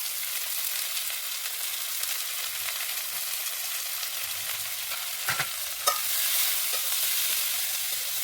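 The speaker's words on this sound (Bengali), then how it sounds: "সম্বার রান্না করার জন্য পেঁয়াজগুলোকে ভেজে নেব। এর মধ্যে লবণ দেবো আর হলুদ দেবো।" Onions fry in a pan with salt and turmeric for a spicy dried-fish mash, giving a steady close sizzle with a few sharp clicks of stirring near the end and no voices.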